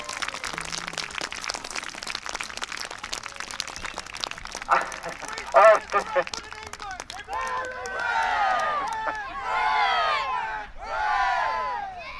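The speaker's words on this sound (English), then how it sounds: "Give all a round of applause for the helper" Audience applause and crowd noise at an outdoor Battle of Crécy re-enactment at Sheffield Fayre, steady clapping early, then swelling cheers and calls from children and adults in repeated bursts.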